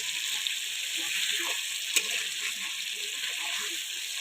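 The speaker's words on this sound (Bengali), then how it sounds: "প্রথমে তেল দিয়ে নিয়েছি, পনিরগুলো ভেজে নেব" Paneer with a little turmeric sizzles steadily in hot oil in a pan, a close, continuous crackling hiss with occasional stirring and a sharp pop near the middle.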